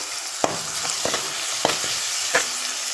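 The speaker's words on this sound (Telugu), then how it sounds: "ఉల్లిపాయలు తొందరగా ఫ్రై అవ్వాలంటే సాల్ట్ యాడ్ చేసుకుంటే మనకి ఎప్పుడైనా ఉల్లిపాయలు అనేవి తొందరగా ఫ్రై అవుతాయి" Onions fry with salt in a pan, keeping up a close, steady sizzle while a spoon scrapes and knocks against the pan every second or so.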